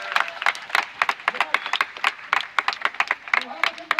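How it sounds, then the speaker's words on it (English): A theatre audience at a Henry IV performance claps in a scattered, uneven burst of applause, sharp hand claps close by over a softer crowd, with someone speaking. "I insist that all of us give Francis a warm"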